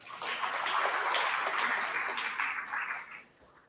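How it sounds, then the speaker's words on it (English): An audience at a university festival day claps in a dense, steady round of applause that holds for a few seconds and then tapers off near the end. "Let's give them a round of applause."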